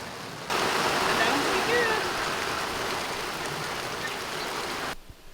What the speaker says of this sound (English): This is quite a thunderstorm, wasn't it?